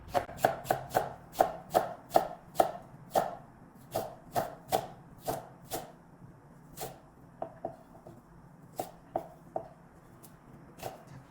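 A knife slices onion into thin strips on a cutting board for japchae, producing a steady run of crisp, close chopping knocks that thin out into spaced single cuts, with no voices.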